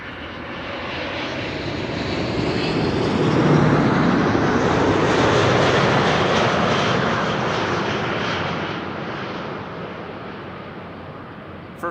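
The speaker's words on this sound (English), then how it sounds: "First arrival of the show, first triple of the show, KLM flight 702, arriving from Buenos Aires" A KLM widebody airliner arriving at Amsterdam Schiphol makes a broad, rushing engine roar that builds to a loud peak near the middle, holds steady, and then slowly fades as it passes.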